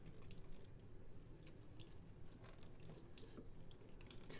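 Faint water splashing and trickling over orchid leaves during a rinse to remove scale, soft irregular dripping and spattering that stays low and steady throughout.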